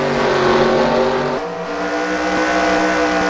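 Race cars roar loudly around Kawartha oval in a Canadian stock car series race, a dense, sustained engine drone that shifts pitch as cars jockey for position, with no talk.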